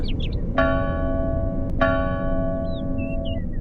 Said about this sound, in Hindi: गांव के चौक में ये घंटी सैकड़ों साल से टंगी है